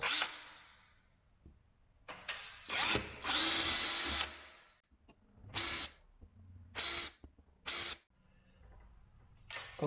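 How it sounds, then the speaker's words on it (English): A power drill boring four holes to mount an RV LED motion-sensor door light runs in loud, close bursts of whirring, several separate spurts of varying length with short quiet pauses between them. "All right, now to drill 4 holes."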